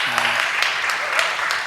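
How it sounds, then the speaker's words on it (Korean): A church congregation applauds at a young adults' worship service, steady dense clapping spread across the room and filling the whole moment at moderate loudness, with a little speech mixed in. "우리 박수 한번 합시다."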